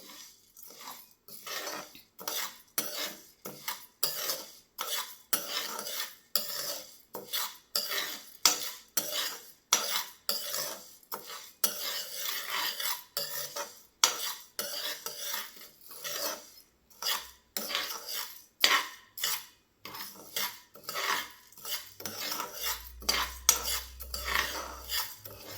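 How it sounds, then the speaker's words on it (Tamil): Black kavuni rice with horse gram and moong dal stirred and dry-roasted in a pan over a low flame, giving a steady run of dry scraping and rattling strokes from a spoon against the metal, alone with no talk. "இப்போ ஸ்டவ் ஆன் பண்ணி அது கூட கருப்பு கவுனி அரிசி சேர்த்துக்கலாம். லோ ஃப்ளேமில் வச்சு நல்லா வறுத்துக்கலாம்"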